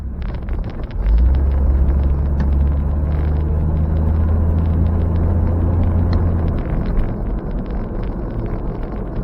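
An old, long-idle Ford F100 pickup cruises down the road with a deep, steady engine rumble and wind buffeting close to the microphone, easing off near the end.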